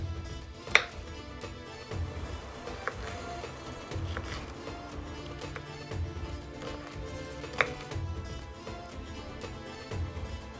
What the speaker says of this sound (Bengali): তারপর লম্বালম্বি পিসগুলোকে আমি 3 টুকরো করে এখানে কেটে নিয়েছি।